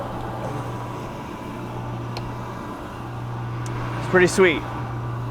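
A Cincinnati 36-inch metal shaper runs with a steady low mechanical hum and drone that holds evenly throughout, and a voice speaks briefly near the end.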